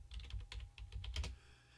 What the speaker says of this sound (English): I typed in my secret, my enable secret password